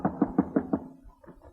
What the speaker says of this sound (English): Come on, try this door, Costello.